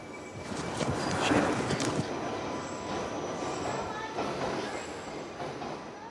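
A London Underground train at East Finchley station, with steady rumbling wheel and rail noise and some squealing, loudest early and holding level throughout.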